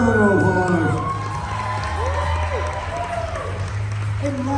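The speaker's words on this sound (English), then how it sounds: "Give it a round of applause" Crowd applause and cheering at a cosplay contest, steady clapping mixed with whoops and high shouts from a lively audience, with voices calling out through it.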